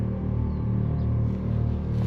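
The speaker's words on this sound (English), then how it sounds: "That was a compressor kicked on." An air compressor runs in a tight home driveway, a low steady motor hum with a pulsing rumble, continuous and fairly close, no voices.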